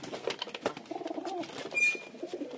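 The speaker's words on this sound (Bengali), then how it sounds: "এখন কবুতরের লড়াই দেখেন" Several pigeons fighting over food coo and grumble in quick overlapping bursts, with scuffling and a brief sharp chirp, close by and fairly busy.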